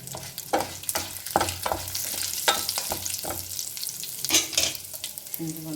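Tempering seeds and dried red chilli fry in two spoons of peanut oil before drumstick leaves are added, with a close, loud crackling sizzle broken by repeated sharp scrapes and knocks of a spoon stirring in the pan.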